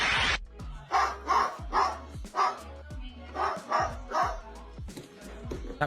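A parrot imitates a dog, letting out a rhythmic series of about eight sharp, close barks in quick succession.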